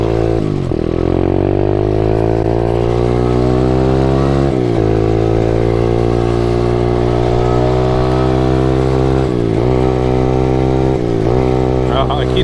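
An SSR125 pit bike engine revs hard and steady while riding, holding a strong buzzing drone that climbs in pitch, with brief dips at each gear change or throttle lift, loud and close throughout.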